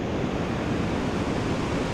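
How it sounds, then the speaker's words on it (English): An alpine stream and waterfall rush in a steady, dense roar close by, with no pauses and no voices. "Another waterfall and alpine stream."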